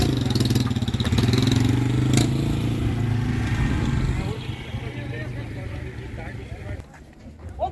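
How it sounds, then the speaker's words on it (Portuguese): A motorcycle engine at a kite festival in Ribeirão Preto, Brazil, droning loudly nearby at first and then fading as it passes, with the hum weakening toward the end. "A moto"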